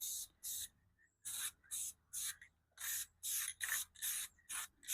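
Spray gun applying lacquer to the veneer of a tube radio cabinet in a rapid series of short, hissing bursts, about a dozen close bursts in quick succession with brief gaps and no talk.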